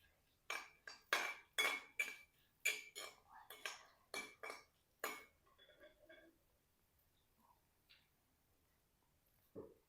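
Urad dal and fenugreek seeds are dry-roasted in a pan, and a spoon stirs them. It strikes the pan in a run of sharp, fairly close metallic clinks, then settles into quieter rattling and scraping.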